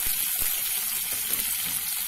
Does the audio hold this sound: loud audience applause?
no